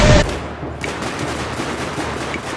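Battlefield 4 gunfire from a video game, a loud close burst at the very start followed by a rumbling, noisy wash of distant shots and battle ambience.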